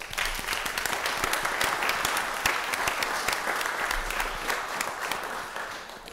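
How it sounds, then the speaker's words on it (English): An audience claps steadily at a city council meeting in Pittsburgh, a dense, even round of applause that holds for about six seconds at moderate loudness. "Let's give him a round of applause."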